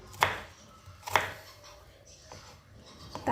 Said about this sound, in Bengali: তো পেঁয়াজগুলো এভাবে কেটে নিতে হবে দেখো